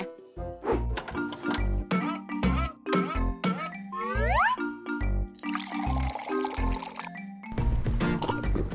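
Water pours into a glass in several bursts amid clinks and rhythmic thumping music, with brief rising gurgles as the vessel fills.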